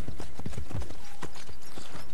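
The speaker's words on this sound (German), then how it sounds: "So, schnappen wir uns mal unser Pferd." Hooves of a horse clip-clop in a quick, uneven rhythm in the Assassin's Creed Brotherhood video game, fairly close and clear, with a brief soft whinny-like tone partway through.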